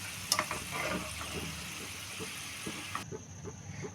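Peanuts frying in hot oil in a pan, a steady close sizzle and crackle with occasional stirring scrapes, running continuously and easing slightly toward the end, with no talking.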